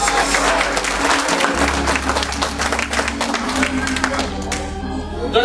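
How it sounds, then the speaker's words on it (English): A church congregation claps loudly and densely during worship, with crowd noise and a low, sustained organ or keyboard tone underneath. The applause holds steady and close throughout. "Somebody clap your hands for Jesus"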